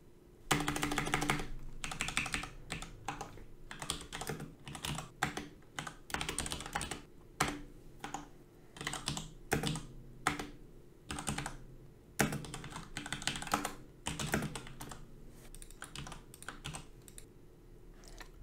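Code is typed on a computer keyboard in quick irregular bursts of close key clatter with short pauses between runs, quiet and steady over about eighteen seconds.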